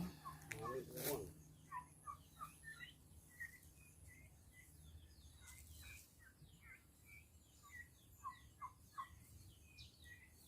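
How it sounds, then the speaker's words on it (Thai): A burst of noise opens the clip, then repeated quick, rattling bird calls like turkey gobbles sound at moderate distance, in irregular bursts. "ไก่งวง"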